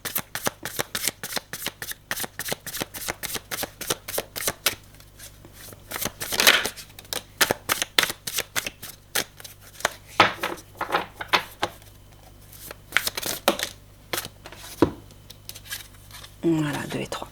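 Tarot cards are shuffled and handled in a rapid series of crisp riffling snaps and flicks running throughout, with brief pauses and a few louder slaps, while someone speaks quietly at times.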